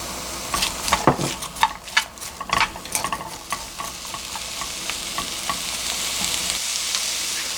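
Onion frying in sesame oil sizzles up close while a utensil stirs and scrapes it in a quick run of clatters early on. The activity then settles into a steadier, gentler frying hiss with no voices.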